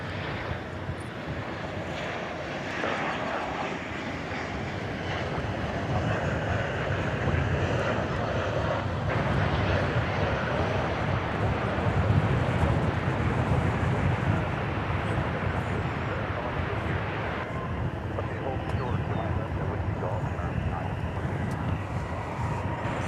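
Airliner engines on flight 1578 to Minneapolis–St. Paul spooling up for takeoff at DFW Airport, a broad, steady roar heard from a distance that builds slightly and holds for the whole stretch, mixed with wind rumble.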